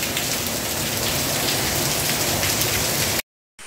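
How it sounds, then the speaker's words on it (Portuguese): Heavy rain at the start of the rainy season in Pernambuco in northeastern Brazil, a loud, steady, dense downpour hammering close by that stops abruptly near the end. "Muita chuva mesmo."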